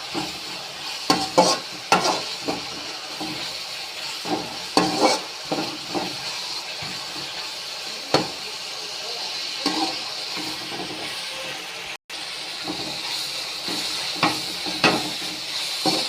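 Onions and tomatoes sizzle steadily in hot oil, with intermittent scraping stirs of a spoon against the pan, loud and close.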